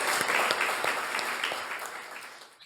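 A poetry reading audience applauds three readers, a brief burst of clapping that is dense at first and then thins and fades toward the end.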